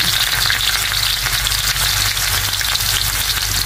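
Ginger and garlic sauté in hot oil for an oxtail soup, giving a loud, steady broadband sizzle that holds evenly from start to finish with no pauses and no voices.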